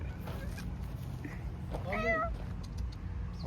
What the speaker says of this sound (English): Find a wild cat.